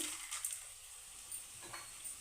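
Mustard seeds with chana dal and urad dal frying in oil in a pan for lemon chitranna: a steady, fairly quiet sizzle with faint scattered crackles and no voices.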